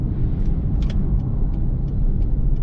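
A car drives along a city street in Almaty in 2022, its engine and tire rumble a steady, continuous drone with faint passing hiss from other traffic.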